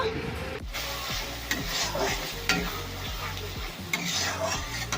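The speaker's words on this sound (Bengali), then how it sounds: "এখানে সাদা সর্ষে আর পোস্ত বেটে রেখেছি, এটাকে ভালো করে নাড়াচাড়া করে মিশিয়ে নেব।" A paste of ground white mustard and poppy seeds is stirred in a hot oiled pan with a spoon, repeated scraping strokes over a steady close sizzle, with no talking.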